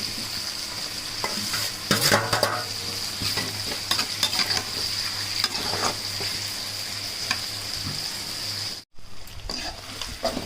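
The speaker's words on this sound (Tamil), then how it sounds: "நல்லா பொன்னிறமாக வர வரணும் வதங்கட்டும்" Onions and tomatoes sautéing in a pan for a prawn fry, a steady close sizzle with intermittent stirring scrapes and clinks throughout, briefly cutting out near the end.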